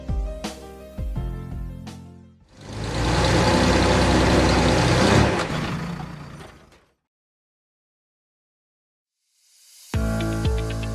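A heavy Cummins KTA50-C1600 industrial diesel engine roars loudly and steadily for a few seconds between passages of music, then cuts off into silence.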